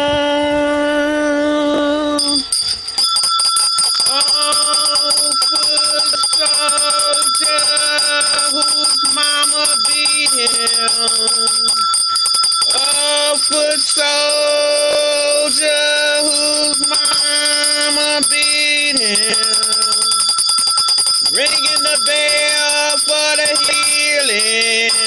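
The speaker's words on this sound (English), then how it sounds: "Ringing the bell for the healing." A bell rings in a steady series of sustained, shimmering tones, loud and close, with overlapping strikes continuing almost without pause for the whole stretch and no voices over it.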